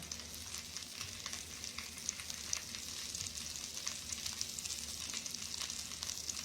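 Flour stirring into sizzling butter for a roux, a quiet steady frying hiss with soft scraping stir strokes and no voices.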